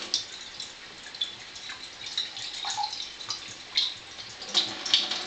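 Water pours from an Enagic Kangen SD 501 water ionizer into a container, a steady close trickle with splashy bright spatters that grow slightly louder toward the end, with no voices.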